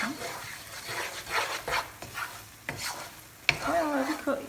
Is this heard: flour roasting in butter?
yes